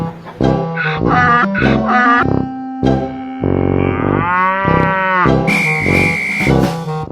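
A cow moos loudly and close by, several long drawn-out lowing calls one after another, some with a strained, distorted, rising tone.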